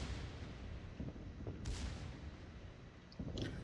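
A warship's main battery fires in World of Warships, with a low rumbling boom and two sharper, distant-sounding blasts standing out over a steady, muffled background roar.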